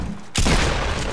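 A Fortnite shotgun blast bursts in abruptly after a short quiet stretch, a loud, close, broadband boom whose roar holds and slowly decays for most of a second.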